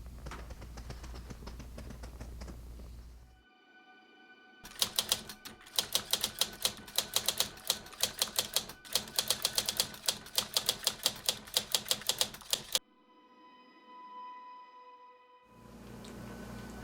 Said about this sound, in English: The doll's footsteps are really just two small flashlights as I threaded them across the floor to get the sound